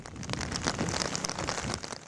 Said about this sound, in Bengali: ঝড়ো হাওয়া সহ ভারী বৃষ্টি ও বজ্রবৃষ্টি শুরু হয়েছে